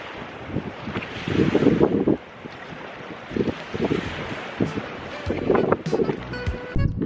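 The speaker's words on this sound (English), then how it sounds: "it is wet and so windy" Strong wind and rain gusting across open country in wet, stormy Patagonia near Torres del Paine, roaring in loud, uneven bursts that swell and drop, buffeting the microphone up close.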